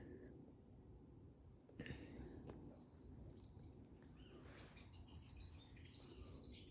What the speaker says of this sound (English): The owls calling.